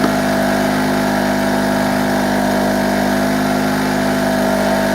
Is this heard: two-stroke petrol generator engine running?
yes